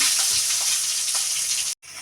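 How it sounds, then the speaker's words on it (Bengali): Salted, turmeric-rubbed brinjal slices fry steadily in hot oil in a kadai, giving a dense, continuous sizzle close by. There is a brief cut near the end before the sizzle resumes. "এবার বেগুনটা ভেজে নেব।"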